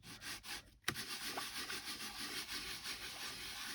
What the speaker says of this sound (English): Now you ink your embossing folder.